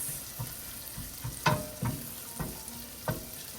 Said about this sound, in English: Pancetta goes in. Keep sauteing this.